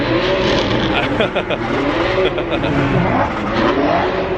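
Car engines, including supercars such as a Lamborghini Aventador SV, rev and roar nearby in a dense, noisy crowd, with overlapping engine whines rising and falling and people talking throughout.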